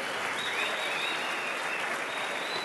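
Members of a congregation at a Sunday Christmas Eve church service clap together in a dense, sustained round of applause, loud and constant, with a faint high tone running through it.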